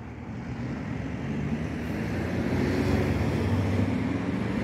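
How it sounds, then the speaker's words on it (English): Steady low roar of distant traffic from a main road beside a lake, a continuous broadband rumble with some wind buffeting, no voices. "I can hear the roar of the traffic in the background"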